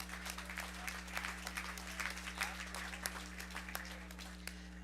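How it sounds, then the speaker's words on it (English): Applause from the crowd at a county fair 4-H and FFA market beef show, soft and distant above a steady low electrical hum, scattered claps continuing throughout. "Let's give another round of applause there."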